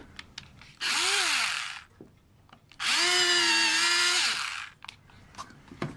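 A power drill whirs in two bursts, a short one then a longer sustained run, close and loud, with quiet clicks and handling noises between.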